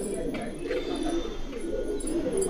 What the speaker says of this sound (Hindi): कलसरे कबूतर